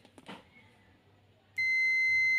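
A multimeter switched to continuity mode, used while checking a motorcycle headlamp circuit, gives a steady high-pitched buzzer tone that starts abruptly partway through and holds after a few soft handling clicks.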